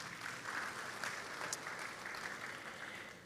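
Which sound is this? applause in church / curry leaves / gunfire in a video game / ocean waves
applause in church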